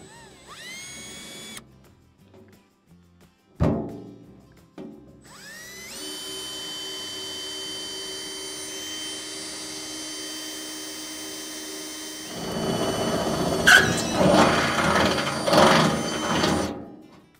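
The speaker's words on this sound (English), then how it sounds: "And then I just drill it." A power drill boring a hole for a self-watering raised bed built from a stock tank: brief motor whirs and a sharp knock, then a sustained steady drilling whine that grows rougher and louder as the bit bites in.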